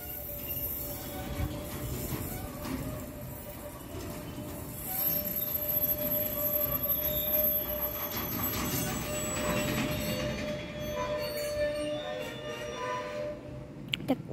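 Freight train wagons roll through a rail freight yard near Prague, giving a continuous broad rumble with rattling, a thin steady wheel squeal and scattered clanks, fairly distant and unbroken for the whole stretch, with no voices.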